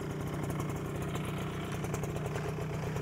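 A sport motorcycle's engine runs smoothly at a steady, even idle, close by and continuous with no other sounds over it.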